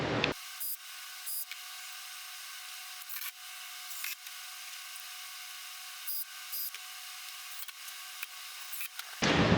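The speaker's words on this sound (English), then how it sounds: "Drill a hole, put screws in." A handheld drill bores a pilot hole and drives screws into wood for a table saw slide, a faint steady whirring motor interrupted by short repeated bursts as the bit bites, with a sharper spike at each end.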